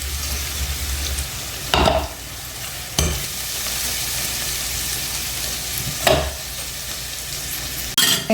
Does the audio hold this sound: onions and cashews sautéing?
yes